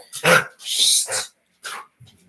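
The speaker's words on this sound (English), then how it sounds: "They're just being stupid dogs." Several dogs indoors let out a few loud, rough barks and a growly yap in quick bursts, close by, then taper off to a faint trailing bark.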